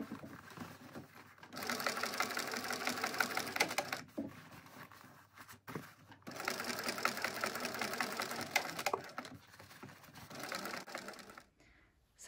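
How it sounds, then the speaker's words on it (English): A domestic sewing machine top stitching through a handbag with an eighth-inch seam allowance, running in two long steady bursts separated by short pauses, close and moderately loud with no voices. "now I'm going to top stitch through here with an 1/8 inch seam allowance"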